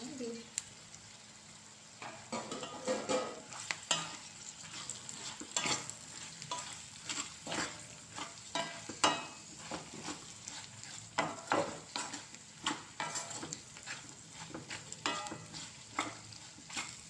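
Bitter gourd pieces tossed into a pan of frying onions, with a steady low sizzle under repeated scraping and stirring strokes of a spoon against the pan.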